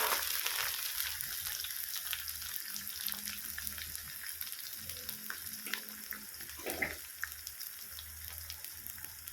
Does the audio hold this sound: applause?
no